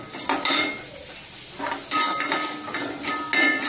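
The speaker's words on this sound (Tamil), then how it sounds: "அடுத்தது இந்த சட்டியிலே பாஸ்மதி ரைஸை லேசாக வறுத்துக்கலாம்." Basmati rice dry-roasted in a pan, with close clinking and scraping of a metal utensil against the pan in irregular bursts, a faint sizzle in between and no talking.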